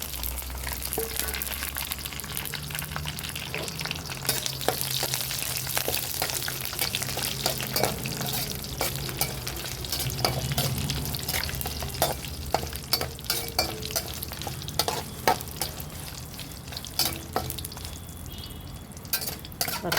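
Dried red chillies fry in hot oil for a mango pickle, giving a steady, close sizzle with frequent clinks and scrapes of stirring throughout.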